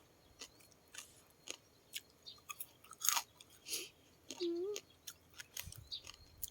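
Crispy fried pork rinds with fat attached being chewed up close, sharp crunches and crackles repeating at irregular intervals, with a brief voice sound partway through.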